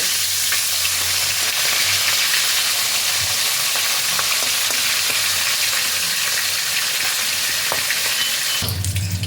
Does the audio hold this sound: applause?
no